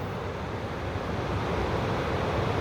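White water pouring over the stepped weir of the Roosevelt Lake irrigation diversion dam, a steady broadband roar without breaks, close and fairly loud, no voices.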